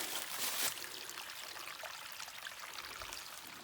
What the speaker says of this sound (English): Look at this stream.